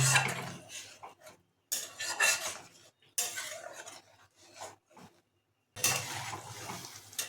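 A spoon stirring boiling paneer curry gravy in a pan, short bursts of scraping and bubbling separated by brief silences, close and quiet.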